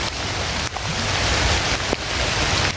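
Heavy rain pours steadily outdoors on a mountain, a loud, dense hiss with a few brief dips, and no voices.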